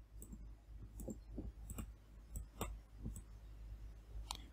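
Computer mouse clicks, a string of sharp, faint taps at an irregular pace, close over a low steady hum, with no talking.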